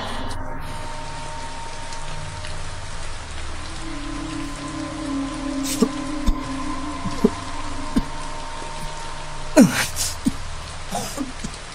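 Steady rain falling throughout, with a constant hiss of drops and a few louder spatters and knocks on the surface, heard alone and fairly close.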